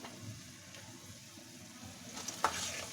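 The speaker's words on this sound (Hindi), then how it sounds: "चलिए अब हम इसमें मिक्स करते हैं।" Spring roll filling with red chili sauce is stirred in a pan, a soft, quiet sizzle with faint scraping strokes that pick up toward the end and no talking.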